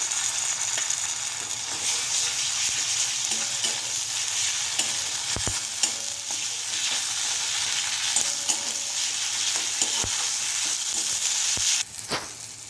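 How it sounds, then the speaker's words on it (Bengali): Ginger garlic paste fries in a pan with fish roe, giving a continuous loud crackling sizzle. Intermittent sharp scrapes and taps of a stirring utensil come through, with no voices. "এখানে আমি এক চামচ আদা রসুন বাটা দিয়ে দিলাম"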